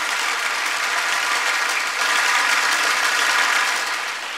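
Audience applause during a Shrimad Bhagwat Katha religious discourse at the Mahakaleshwar temple, a dense, even roar of clapping that holds steady for several seconds and dips slightly at the end.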